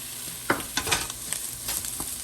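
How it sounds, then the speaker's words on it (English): Diced pre-cooked ham stir-fried in a hot pan for Venezuelan fried rice, a bright continuous sizzle punctuated by repeated scraping stirs of a utensil, close and alone. "I'm bringing the heat back up, and I'm adding our ham."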